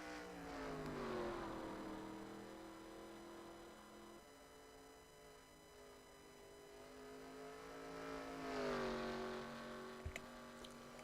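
Race car engine of a Chevrolet in an Xfinity series sim racing game at Ireland, a steady droning whine that rises and falls with revs, swelling louder near the end, with no talk over it.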